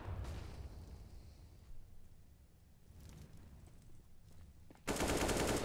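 Rifle gunfire in a Counter-Strike match on the Ancient map, with bursts of shots over a low rumble that end in a sudden loud, dense blast of fire.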